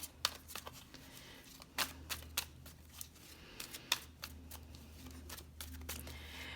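Tarot cards are shuffled by hand at close range, with quiet irregular riffles and sharp flicks and snaps spread across several seconds, no talking.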